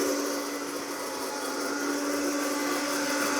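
A blender whirs loud and steady as it pulverizes shallots, with its motor running without a break the whole time.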